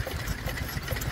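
An Osborne gas stationary engine running at a vintage engine rally, a steady mechanical chugging with a fast, regular beat, close by and without talk.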